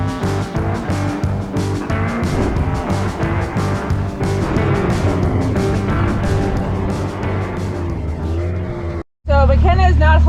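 A rental dune buggy on Idaho sand dunes revs and grinds through a turn, its engine droning loudly and close with wind noise, cutting off abruptly before voices speak at the end.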